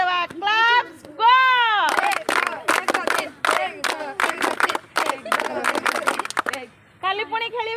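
A group at a Kho-Kho school event in Kotpad, Odisha, claps for the losing team: bursts of sharp rhythmic handclaps between children's shouts and speech.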